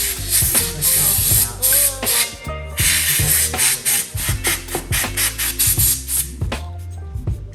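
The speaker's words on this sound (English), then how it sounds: "So I'm gonna grab my air compressor" Short, loud bursts of compressed air blasting dust out of an opened HP laptop, repeated in quick irregular pulses with brief gaps and some rattling between blasts.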